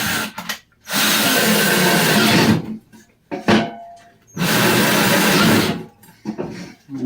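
A power drill whirs loudly in two long sustained bursts, with brief starts and stops in between.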